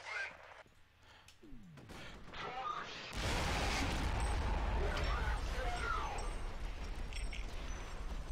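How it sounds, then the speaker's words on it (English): In the video game F.E.A.R., a heavy explosion bursts in and becomes a sustained loud roar of crashing debris and noise, preceded by quieter clicks and game sounds. "That is one hell of an explosion."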